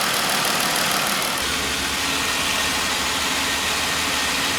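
Jeep engine idling right after an oil change, a steady close rumble holding at an even level throughout with no talk.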